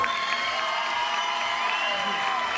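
A crowd cheers and whoops for a dancer at a dance contest, a sustained bright roar of voices that stays fairly even and close.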